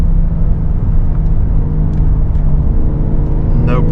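Cabin drone of a 2023 Porsche 911 Targa 4 GTS with a manual gearbox cruising in fifth gear, a steady loud low engine and road rumble throughout, with a brief voice near the end.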